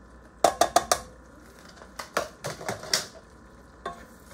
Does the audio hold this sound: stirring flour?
yes